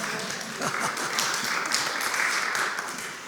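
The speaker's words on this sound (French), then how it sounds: "si vous voulez, vous pouvez le faire" Audience applause at a partners' presentation event, a continuous wash of many hands clapping at moderate distance, steady throughout with a faint voice underneath.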